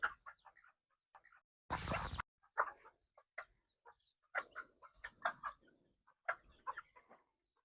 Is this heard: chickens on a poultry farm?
yes